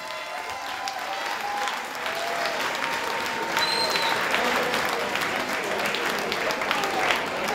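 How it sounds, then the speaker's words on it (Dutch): A large audience at a pageant finale gives a sustained round of applause, dense clapping that holds steady and swells slightly midway, with faint crowd voices beneath. "En die mogen ook wel eens een applaus,"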